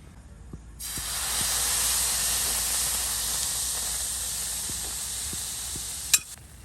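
Tomato dosa batter hits a hot griddle and erupts into a loud, steady hiss that holds for about five seconds, close by, ending with a brief clink; no talking.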